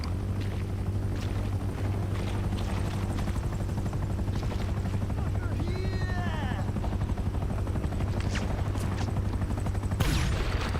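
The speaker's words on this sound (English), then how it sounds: "Oh god, helicopter! Helicopter!" Steady low rotor drone of a helicopter in GTA Online on PS5 runs throughout, with a sweeping whine midway and a sharp burst near the end.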